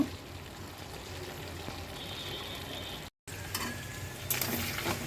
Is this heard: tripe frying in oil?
yes